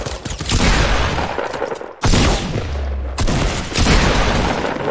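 Sniper gunfire in a video game rings out as loud, close, overlapping shots and heavy booms, bursting in quick succession with brief gaps between volleys.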